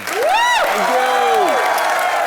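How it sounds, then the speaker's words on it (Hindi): Broad studio audience applause at a Hindi comedy show fills the clip with steady clapping while loud music with rising and falling tones plays over it. "जोरदार तालियां हो जाए"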